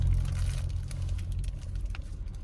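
A steady low rumble of passing car traffic on a rain-wet road on a quiet, chilly Sunday, one vehicle sweeping by close and loud with continuous road noise throughout, no voices.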